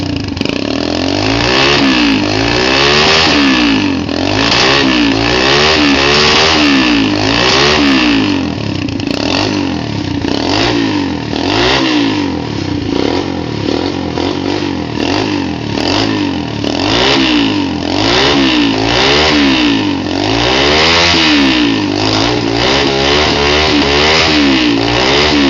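A track-build motorcycle engine revs after a short warm-up, loud and close, rising and falling in repeated throttle blips over a steady running drone for the whole stretch, with no voices.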